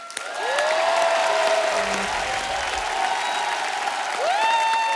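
Studio audience applause on The Kapil Sharma Show greets a music director duo, a dense, steady roar of many hands lasting throughout with bright music tones playing over it.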